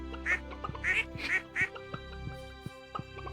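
Ducks in the farming game Stardew Valley quack in a handful of short, close, bright bursts over steady, soft background game music.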